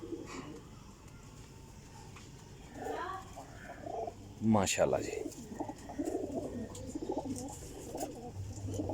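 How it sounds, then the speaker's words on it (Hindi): A prized champion racing pigeon held in a man's hand gives soft, low cooing, heard close up beneath his admiring voice and other background voices. "यकीन करो कबूतर हाथ विच मैं फड़े है ना"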